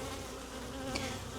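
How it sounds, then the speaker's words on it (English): Honeybees drone on a brood comb in an opened hive, a close, continuous buzzing hum with no talk. "I'm also checking for brood as well to make sure that our queen is laying on that"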